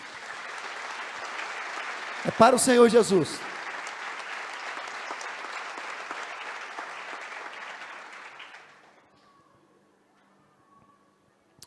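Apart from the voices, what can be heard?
congregation applauding for Jesus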